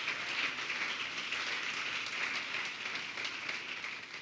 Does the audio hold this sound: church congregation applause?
yes